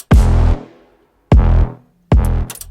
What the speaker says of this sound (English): we use yet another classic technique, a brass stab.